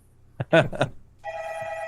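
A landline telephone ring sounds alone as a steady electronic tone starting partway in, right after a few short spoken syllables.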